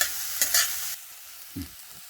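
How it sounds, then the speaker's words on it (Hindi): Onions and zucchini being stirred and sautéed in a pan, a brief sizzling scrape followed by a quieter spoon knock, with no voice. "सबसे पहले मैंने प्याज और जुकूनी डाल दिए हैं क्योंकि उसको थोड़ा टाइम ज़्यादा लगता है।"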